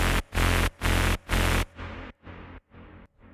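A loud, buzzy synth plays four chopped bursts, then fades into quieter, echoing repeats with a long reverb tail between them.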